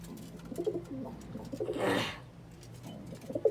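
Pigeons coo softly in low, throaty murmurs, with a brief rush of rustling or fluttering in the middle; quiet and fairly close.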